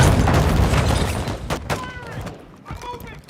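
Rapid gunfire in Call of Duty MW2, dense overlapping shots and booms at the start, thinning into a few separate cracks and bursts, loud and close with voices shouting over the battle.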